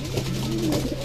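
Racing pigeons coo softly in a low, continuous murmur, close by, over a steady background hum with no talk.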